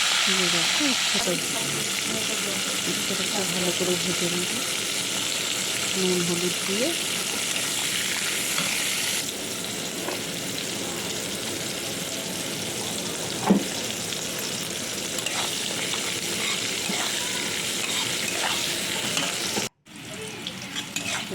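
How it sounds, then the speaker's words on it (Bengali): Bitter gourd pieces frying in plenty of oil in a karahi with salt and turmeric, a steady close sizzle with occasional stirring scrapes while someone talks over it. "উচ্ছটা খুব ভালো করে ভেজে নেব নুন হলুদ দিয়ে"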